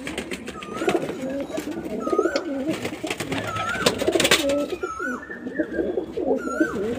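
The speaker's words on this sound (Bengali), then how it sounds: "পায়রাগুলো কোয়ালিটি আছে।" A flock of short-sized fancy pigeons at a home loft keeps up continuous overlapping cooing, near and fairly loud, with scattered higher chirps and brief clattering noises, and a little talking beneath.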